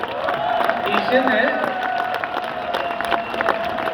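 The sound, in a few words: audience applause and cheering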